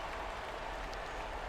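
Crowd applause at a basketball game, a brief, fairly faint wash of clapping from a distant audience, continuous and diffuse without anyone speaking.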